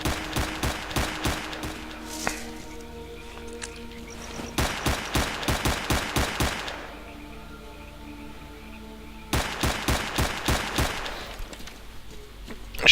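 Repeated bursts of automatic rifle fire in S.T.A.L.K.E.R.: Clear Sky, three clusters of rapid evenly spaced shots separated by quieter pauses with ambient tones, moderately loud.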